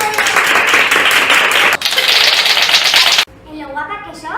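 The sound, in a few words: applause, clapping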